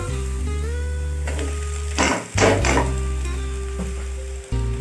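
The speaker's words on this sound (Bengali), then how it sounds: "এবার সবজিগুলোর সাথে আমি চাউমিনটাকে ভালো করে মিশিয়ে নেব" Boiled chowmein tossed with vegetables in a hot pan, a soft sizzle under a sustained tonal hum, with a couple of brief bursts of stirring and scraping near the middle.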